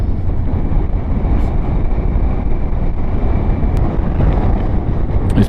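Honda NC750X motorcycle on smooth mountain roads in Gran Canaria, a loud, steady engine drone mixed with heavy wind rush across the microphone throughout, with no talking.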